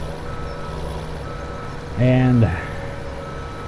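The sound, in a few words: dump truck reversing beeps in Farming Simulator 2017 video game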